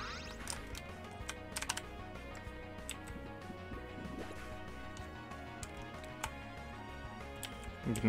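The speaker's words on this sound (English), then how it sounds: "I'm just going to put my frickin' keycaps back on." Keycaps being pressed back onto a computer keyboard, giving a steady run of light plastic clicks and taps with a few sharper snaps, close up and without talk.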